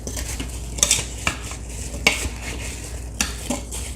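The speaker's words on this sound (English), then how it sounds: "I'm going to grab a spatula and give it a quick stir." A spatula stirs brown sugar into apples in an Instant Pot, giving a few distinct scrapes and clinks against the pot at irregular intervals, close and fairly quiet.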